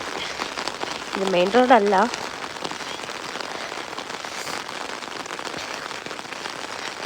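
Heavy rain pours steadily onto a quiet, empty side road in the early morning after 3 a.m., a dense, even hiss throughout, with someone briefly speaking over it near the start.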